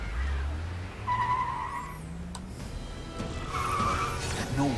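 During a car chase in The Amazing Spider-Man 2 video game, car tires squeal and skid in several bursts over engine noise, with game sound effects between them.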